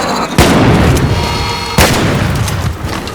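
Gunfire sprays into the ground in the video game Arc Raiders, sounding as two sharp, loud booming bursts about 1.4 seconds apart, with rumbling noise filling the gap between them.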